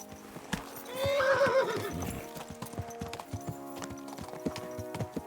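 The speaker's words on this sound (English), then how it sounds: "What are you whistling for? My horse, of course." In the video game Kingdom Come: Deliverance II, a horse whinnies loudly once over a steady clip-clop of hooves, and the hoofbeats keep trotting along after the call fades.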